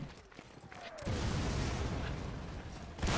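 A heavy cannon blast erupts after a brief lull at a North and South battle reenactment, followed by a sustained roaring rumble and another boom at the end.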